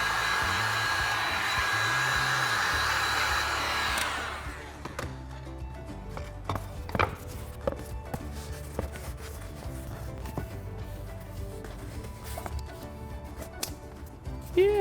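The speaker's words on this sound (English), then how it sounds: "Now I'm gonna just heat form it a little bit over my foam anvil." A heat gun blows a steady whooshing roar while craft foam is heat-formed over a foam anvil. The roar cuts off after about four seconds and is followed by scattered soft taps and handling noises of the foam.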